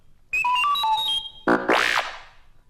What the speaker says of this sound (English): time to turn the page when you hear R2-D2 beep like this